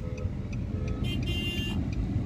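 Steady car engine and road rumble from taxis in congested street traffic in Dubai, close and continuous, with a brief higher tone midway that suggests a distant horn.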